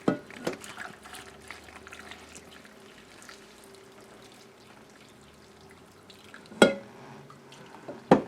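Pickling liquid pours steadily over eggs and beets in a bowl with a soft, continuous trickle, framed by a few sharp clinks near the start and end.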